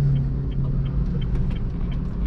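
A car engine rumbles and revs lightly at half clutch while the driver feeds a little throttle and shifts into second gear. The low, steady drone is heard close up from inside the cabin, with no voices.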